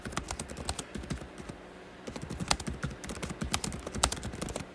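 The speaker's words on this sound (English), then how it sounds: "You may have just heard me hitting the keyboard." Typing on a computer keyboard, a quiet stream of quick irregular key clicks and taps in close bursts over several seconds, with no talking.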